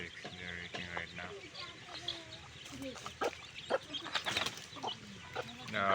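Backyard chickens cluck and chatter near the microphone while pecking at termites, brief calls rising over a steady rustle, with a person talking throughout.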